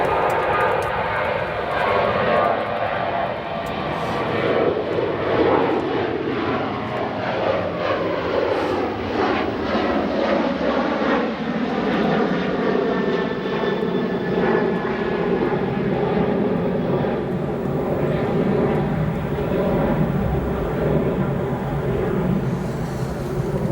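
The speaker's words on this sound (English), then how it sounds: "You can go to a WestJet 737 departing 28 right" A WestJet Boeing 737 jet departs runway 28 right at O'Hare, its engines a loud, close, sustained roar that shifts in pitch as it climbs away, with no voices over it.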